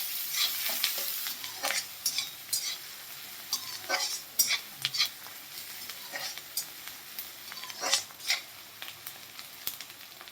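Chopped onion frying in a pan for a rice-based vegetable dish, with scattered sizzling crackles and repeated scraping stir strokes at close range, no voices.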